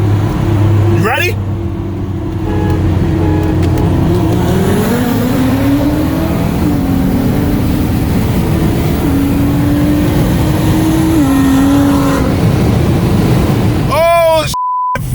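A full bolt-on E85 Nissan GTR drag racing, its loud engine climbing steadily through rising revs with gear-change steps over a constant roaring background, ending in a sharp cutoff.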